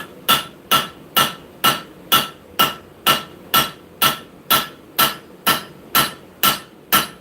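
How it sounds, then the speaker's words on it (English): Heavy hammer blows forging hot metal, a loud, close, evenly paced series of about fifteen ringing strikes, one roughly every half second, with nothing else heard. "Taking some of those big hammer blows from that straight bean out of here."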